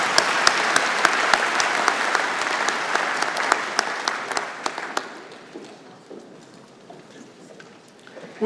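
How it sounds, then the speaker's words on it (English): Audience applause for the MacEwan University Big Band at a spring university convocation ceremony, a dense steady clatter of many hands for about five seconds that then thins into scattered claps and fades. "Round of applause for the MacEwan University Big Band."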